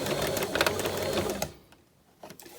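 Sewing machine back-tacking stitches at the top of a fabric dart, a quiet close rapid whir that stops partway through, then a few faint clicks.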